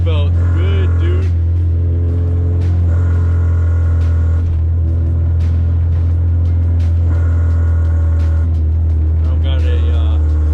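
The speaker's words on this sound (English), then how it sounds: "You can hear vtec just crack" Honda Civic with a K24 engine revving hard from inside the cabin, a steady low rumble climbing and crossing into VTEC with a sharper, harsher crack near the start and again near the end, with a voice talking over it.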